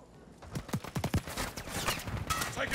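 Gunfire in the Call of Duty: Modern Warfare II video game, a short cluster of sharp cracking shots in quick succession followed by a rough, noisy wash of battle sound.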